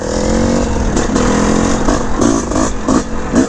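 Engine of a 1981 Honda CR450R Elsinore dirt bike lugging at low RPM outdoors on grass, a loud continuous rumble with several short throttle blips near the end.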